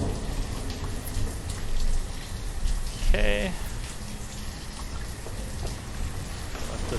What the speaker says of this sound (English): Oh man, it's so dark when it's raining. It's a relaxing sound though.